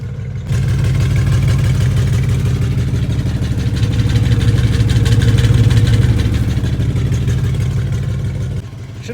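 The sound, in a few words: car engine idling with rattling loose muffler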